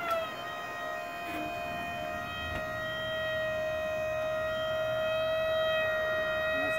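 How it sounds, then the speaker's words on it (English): A hydraulic pump raising a 1994 Towlite HiLo camper trailer whines steadily with a sustained mechanical hum and high tonal drone that holds at an even level throughout. "Nice and quick. Hydraulic pump works great."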